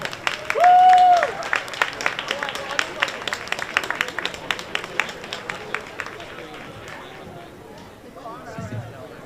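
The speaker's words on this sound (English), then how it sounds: "one more time, round of applause for the Honorable Babsy Grange" A round of applause at a Jamaica 60 launch reception in New York, led off by a loud whistle or cheer, then brisk scattered clapping that gradually fades out, with voices over the top.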